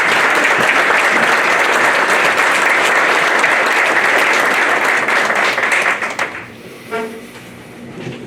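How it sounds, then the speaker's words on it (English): Audience applause for volunteer award winners at a senior center ceremony, a dense, steady wash of clapping that carries for about six seconds, then thins and fades out. "Can we give all of our award winners another round of applause?"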